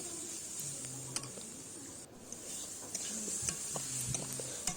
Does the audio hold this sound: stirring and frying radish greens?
yes